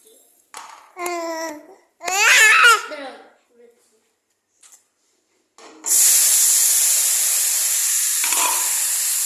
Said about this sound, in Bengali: এখানে হচ্ছে শুক্তি ভাজা হচ্ছে